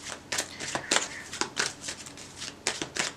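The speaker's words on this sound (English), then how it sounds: "one more shuffle, and then I'll get it" Tarot cards are shuffled by hand in a series of crisp riffling bursts and soft slaps, close and fairly quiet, with irregular short pauses between them.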